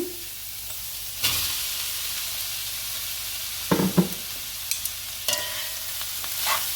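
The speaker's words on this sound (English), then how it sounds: "I'm going to add the rice in now." Rice tipped into softened carrots and cashews in a pan for Trinidadian-style fried rice, a sudden scraping pour, then a low steady sizzle with a few soft spoon scrapes and clinks, close by and without talk.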